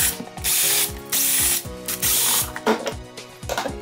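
Rapid, repeated ratchet-like clicking of a tool unscrewing screws from a large security camera, in loud bursts with short pauses, close by with no talking.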